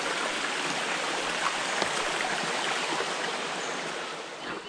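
A clear, clean stream flowing beneath a bridge near a forest hermitage, heard as a loud, continuous rush of water that stays close and even throughout.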